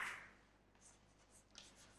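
Faint, soft scratching of a pen or marker writing on a board during a chemistry lecture, with a few light strokes spread over a couple of seconds and no talking.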